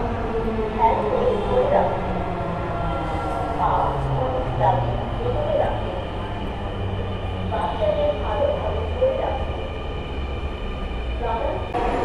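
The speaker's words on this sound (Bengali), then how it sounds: "চলে এসেছে উত্তরা থেকে ট্রেন আসলো" A Dhaka Metro train rumbles steadily into a station with a continuous low roar and faint squeal, while voices talk in the background.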